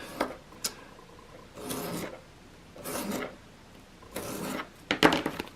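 Cardboard being cut with a cutting tool, five separate rasping, scraping strokes at a steady rhythm, close and fairly quiet with brief pauses between passes.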